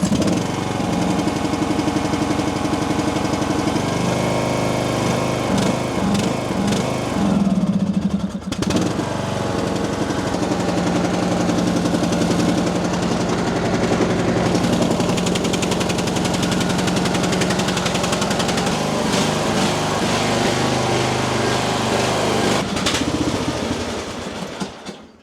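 A cold-natured Poulan Pro riding lawn mower, needing carburetor work, cranks and starts, then its engine runs loud and steady in a continuous drone for about twenty-five seconds without talk.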